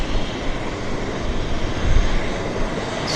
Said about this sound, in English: Oh, here's this corporate jet.